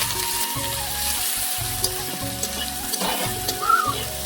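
Sliced onion frying in a little oil with whole cumin seeds, for a Bengali home-cooked meal: a steady, close crackling sizzle with brief louder pops, no talking.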